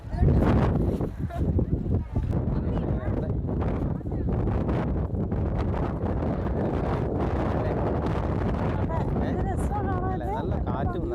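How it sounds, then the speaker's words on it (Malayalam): Strong coastal wind at Dhanushkodi buffets the microphone in continuous loud gusts, with people talking throughout. "എന്താ കാറ്റല്ലേ"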